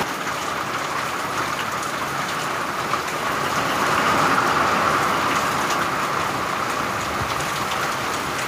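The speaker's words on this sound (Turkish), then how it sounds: "çok şiddetli bir şekilde yağmur yağıyor" Heavy rain pours down on a garden in a dense, steady hiss that swells louder midway, with no voices heard.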